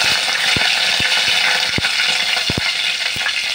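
Curry leaves sizzle in hot oil, with cumin, for a chana masala gravy; a loud, steady frying hiss runs throughout, broken by several sharp pops and crackles.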